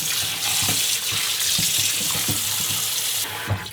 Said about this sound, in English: So a couple of times rinse this in cold water.